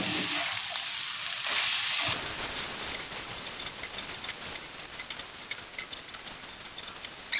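Boiled tek tek noodles tossed with vegetable oil in a pan give a steady close hiss for about two seconds, then a run of light, scattered crackles and ticks from the stirring, with no voices.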